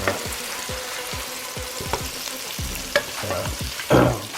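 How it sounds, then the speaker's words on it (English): Frozen sausage patties fry in a pan with a steady close sizzle and crackle, punctuated by repeated spatula scrapes and taps and a brief louder burst near the end, with no talking. "throw the sausage on, turn it on"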